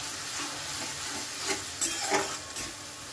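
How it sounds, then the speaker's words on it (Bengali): Masala with turmeric frying in a pan for aloo bhuna, a low continuous sizzle broken by several soft scraping stirs of a spoon, close and unaccompanied by talk. "ভালো করে মশলাটা কষিয়ে নেব"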